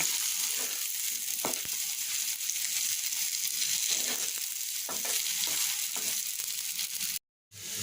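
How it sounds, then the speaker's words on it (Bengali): Slices of pointed gourd (potol) fry in oil in a pan with a continuous close sizzle, broken by occasional spatula scrapes and stirring knocks, with no talking, before a brief dropout near the end. "এখন একটু পটল ভাজি করলাম"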